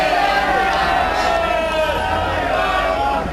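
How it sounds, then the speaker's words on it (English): Dense crowd hubbub at the All England 2016 bowls quarter-final, a continuous babble of many voices filling the hall at a steady, fairly loud level, with some nearer chatter standing out. "Crowd getting noisier by the game now."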